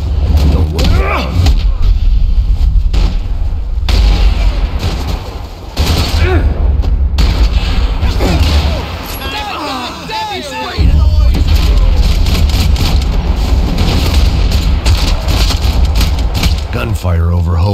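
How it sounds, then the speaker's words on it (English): Gunfire and explosions in the video game Max Payne 3, heavy booming blasts and rapid shots under a constant loud rumble, with a voice talking over parts of it. "Gunfire over Hoboken."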